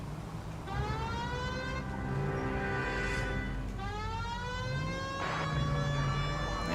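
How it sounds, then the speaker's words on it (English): Police car siren in the video game L.A. Noire, wailing in rising and falling sweeps over the rumble of the car's engine, loud and continuous while driving through city corners. "You just put your siren on when you're going through the corners"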